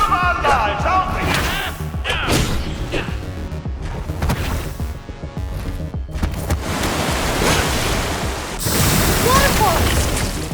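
Rushing waterfall water in the Minecraft Story Mode video game, a loud, continuous broadband roar with rumbling low bursts and splashy surges, swelling louder near the end.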